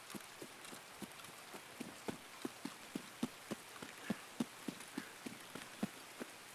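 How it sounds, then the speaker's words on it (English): Steady rain falls in Escape from Tarkov, a soft continuous hiss of water with many sharp drop ticks at an even pace, quiet throughout and with no talk over it. "Rain like this is really interesting because it's loud enough that it's messing with everybody's hearing."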